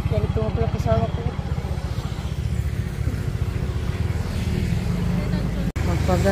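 A motorcycle ride in Dipolog City, Zamboanga del Norte: a close, steady engine drone with pulsing harmonics that rise and fall as the bike moves along.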